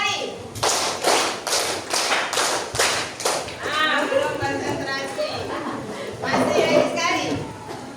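A classroom of students clapping in a rhythmic pattern, a run of sharp, evenly spaced claps followed by looser clapping, with children's voices chattering and talking underneath.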